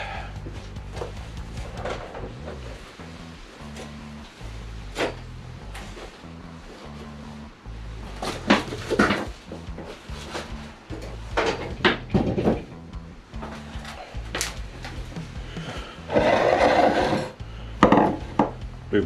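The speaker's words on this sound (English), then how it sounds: "Move my tool board out of the way" A tool board in a wood-carving workshop is shifted aside, giving a run of woody knocks, scrapes and rubbing clatters, irregular and close, with louder bumps toward the end.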